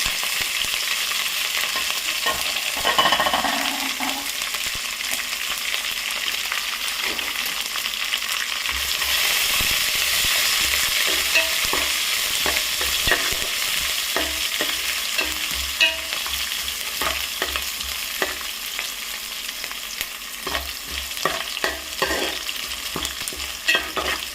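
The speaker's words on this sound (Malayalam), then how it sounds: "ശേഷം കുറച്ച് കറിവേപ്പില ഇട്ട് കൊടുക്കുക പിന്നെ നമ്മൾ നേരത്തെ അരിഞ്ഞ് വെച്ച പച്ചമുളകും ഇഞ്ചിയും വെളുത്തും കൂടി ഇത് കൊടുക്കാം" Curry leaves, green chilli, ginger and garlic fry in oil for mango pickle. A continuous close sizzle is punctuated by repeated clicks and scrapes of stirring, swelling louder in the middle before settling.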